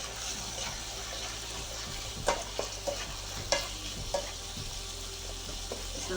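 Spicy chicken spaghetti mixture stirred in a frying pan, with soft steady sizzling and a few sharp scrapes and clacks of the spoon against the pan, close and alone.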